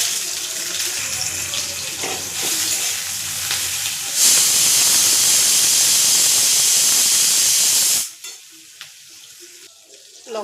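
Chopped onions drop into hot oil for ghugni and burst into a loud, steady sizzle that surges mid-way, then cuts off sharply, leaving a quieter kitchen with faint clatter.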